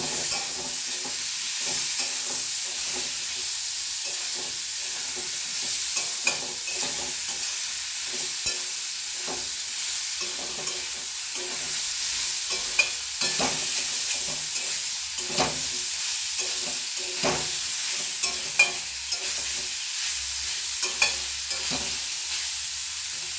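Poppy seed paste and chopped tomato stirred into a hot pan for paneer posto, a steady sizzle with repeated scraping strokes of a spoon throughout, no voices.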